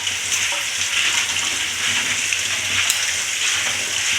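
One cup of split peas and half a cup of black-eyed peas are rinsed in water for a soup, making a steady, close rushing and splashing that runs unbroken throughout, with no voices.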